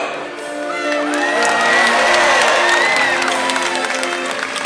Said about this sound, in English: when Makayo does this jump, let's give him a great big cheer